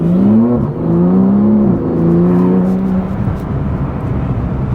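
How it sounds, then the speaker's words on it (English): A loud Porsche 911 Turbo S engine revs up with a rising whine as the turbos spool, then settles into a steady roar, close and continuous. "You can hear the turbos spooling up when you start accelerating."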